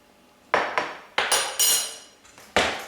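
Ingredients for vanilla custard are stirred in a bowl, heard as several sharp clinks and knocks of a utensil against the bowl in an irregular sequence, close up and with no talk.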